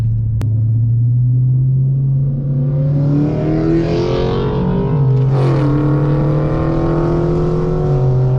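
A Hellcat car engine rumbles loudly up close, revving higher as it accelerates, shifting once, then pulling away down a street under a steady low growl.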